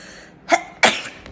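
Two sneezes from a young woman, one right after the other, each a sharp, close burst over a quiet background, with no talking around them.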